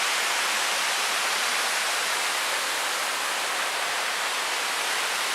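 A waterfall in Auvergne, France, pours as a constant broad hiss of falling water, steady and unchanging for several seconds, fairly close, with no voices.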